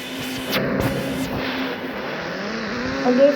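A ghost rider motorbike engine in an Indian bike 3D video game drones steadily with a rising whine, ending in a brief louder rev, heard close and without talk.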